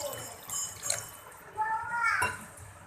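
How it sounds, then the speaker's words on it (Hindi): Water is poured into a cooking pan to make a besan gravy for besan alty palty, with a continuous splashing, running sound under a voice and kitchen noise. "अब मैं इसमें पानी डाल दूंगी"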